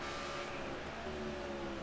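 Race car engine in an ARCA Series racing video game at Watkins Glen, a steady droning hum with faint harmonic lines holding at a constant pitch, moderately quiet and continuous without speech.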